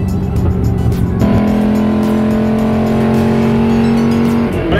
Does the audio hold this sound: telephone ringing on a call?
no